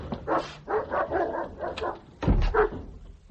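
Dog barking indoors in an isolated house, a run of several close, loud woofs with a short pause before a couple more sharp barks.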